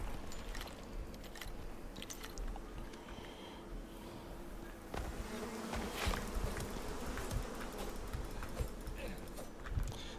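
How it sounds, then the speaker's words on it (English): Swarming bees buzz in the survival video game Icarus, a faint continuous drone with scattered clicks and rustles, no talk over it. "Let's go fight some friggin' bees."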